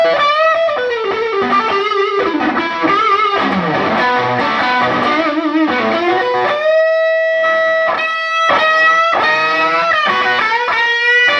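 A heavily distorted electric guitar through a Rat-style distortion pedal, boosted by a Tube Screamer, plays a fast run of notes, then sustained ringing chords, loud, gritty and close, with no voices.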